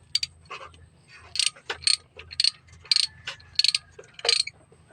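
A ratchet clicks in short, loud bursts while screws are removed from a low-power engine being repaired, the bursts separated by brief pauses.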